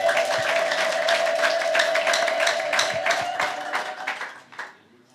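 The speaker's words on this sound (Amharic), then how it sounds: "በደንብ እልልታ ጨብጨባ ለዚህ ጌታ።" Church congregation clapping and ululating in praise, a dense, loud wall of applause with a sustained high trilling cry running through it, thinning out and fading toward the end.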